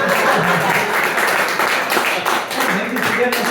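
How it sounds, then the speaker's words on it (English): Applause for the staff in an alehouse is a brief, thin patter of clapping from a small crowd, mixed with voices and room chatter throughout. "that wasn't very much applause for the staff here"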